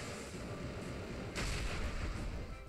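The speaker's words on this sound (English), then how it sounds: "Celesteela goes for the Heavy Slam." Celesteela lands Heavy Slam in a Pokémon battle: a deep booming impact hits midway, swelling over a low rumbling game soundscape with no voices.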